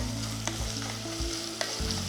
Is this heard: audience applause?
no